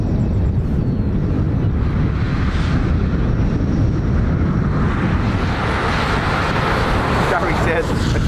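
Airliner engines at Dublin Airport, a steady broad roar with a rising whine partway through, loud and continuous, heard from a plane-spotting position with wind on the microphone.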